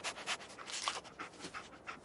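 Dogmeat, the dog companion in the video game Fallout 4, pants in quick soft rhythmic breaths, close and fairly quiet, with no talking.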